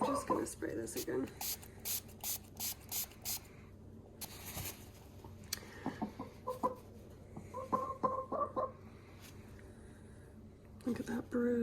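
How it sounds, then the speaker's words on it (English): A spray bottle squirts a series of quick, rhythmic bursts onto a hen's wound left by a hawk attack, while the chicken clucks softly, all heard up close. "I'm just gonna spray this again."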